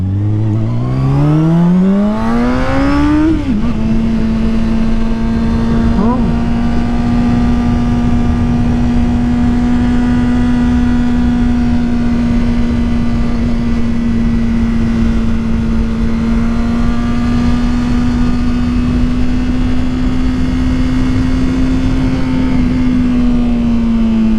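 A motorcycle engine revs up sharply in the first few seconds, then settles into a steady, loud drone at constant speed while riding, wind rush beneath it, with no talk.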